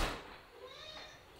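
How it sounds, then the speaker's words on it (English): A house cat gives a single drawn-out meow at moderate distance over a steady background hiss, during a heavy rain outside. "The cat wants to jump in"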